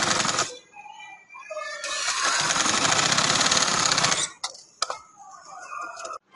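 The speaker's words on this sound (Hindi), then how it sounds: "इसको ऐसे आराम से सिलाई के ऊपर सिलाई लगाती जाऊँगी" A sewing machine runs in a steady burst of rapid stitching over a seam on a summer frock, loud and close, with short stops and starts before and after the main run.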